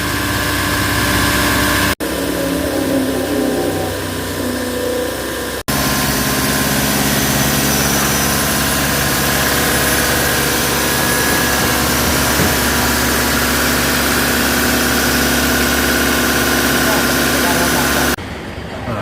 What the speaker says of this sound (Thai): เราทำการเร่งเครื่องได้นะครับเราเร่งเครื่องนะครับ